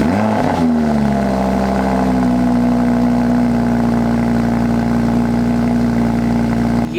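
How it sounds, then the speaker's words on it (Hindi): Lamborghini Huracan cold start: a sharp starter catch and loud flare in the first second settles into a steady, rumbling high idle that holds close and loud for several seconds with no talk. "ब्रेक को प्रेस करने के साथ इसको प्रेस करेंगे और इसका कोल्ड स्टार्ट आप"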